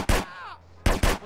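Gunfire in GTA San Andreas: three loud, close bangs, one opening the clip and two in quick succession near the end, with a brief vocal sound between them.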